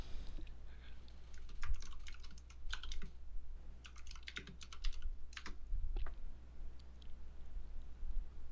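Typing on a computer keyboard, bursts of quick clicking keystrokes with short pauses in between, close and fairly clear over low background hum, no talk.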